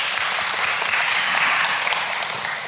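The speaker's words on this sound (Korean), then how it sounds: "감사하는 마음을 담아서 박수 한번 부탁드리겠습니다." Steady applause from an audience, a dense wash of clapping that holds at an even level throughout.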